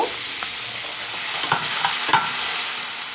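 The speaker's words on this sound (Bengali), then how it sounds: "এখানে আমি যে আলুটা কেটে রেখেছিলাম, আলুটা কিন্তু একটু ভেজে নেব" Potatoes fry in mustard oil with a steady, close hiss. A few soft clinks of stirring come through, and nobody speaks.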